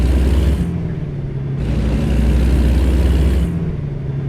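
Kenworth W900 truck engine in American Truck Simulator, a steady deep diesel drone that shifts pitch at a few gear changes, loud and close with no talk over it.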